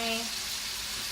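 Meat frying in a pan while cooking drunken noodles, a steady close hiss of sizzling fat running throughout with a brief faint tonal sound at the start and no talk.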